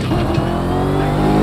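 Noble M600 sports car accelerating in The Crew 2 racing game, a loud, close engine roar climbing steadily in pitch over a brief burst, with no talk over it.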